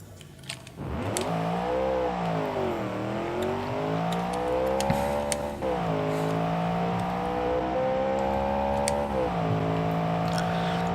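A naturally aspirated V-drag V1 race car engine in BeamNG.Drive holds a loud, buzzy tone that rises and falls with several revving surges across the whole stretch, close-up with no speech.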